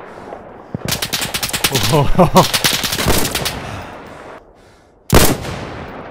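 Rapid automatic gunfire in the realistic shooter Insurgency: Sandstorm, bursts of close, sharp shots followed after a pause by a single loud blast, with a voice reacting faintly underneath.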